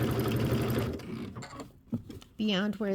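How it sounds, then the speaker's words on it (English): A sewing machine stitches binding onto a Kimberbell Cuties table topper, a close rapid whirring chatter for the first second, then stopping while someone talks. "Do you see how I'm stitching like into the white?"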